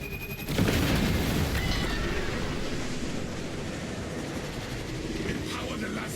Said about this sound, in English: The Titan launches its missiles.